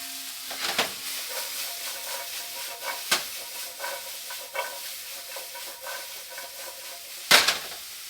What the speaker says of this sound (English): Love to hear that sizzling.